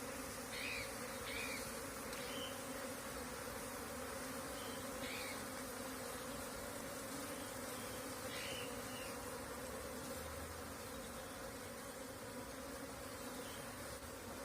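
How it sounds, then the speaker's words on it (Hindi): Apis cerana honey bees buzz steadily and loudly throughout, a dense continuous drone with occasional nearer individual bees passing close, no voices present. "मधुमक्खी तो मैं बचपन से ही पकड़ता था"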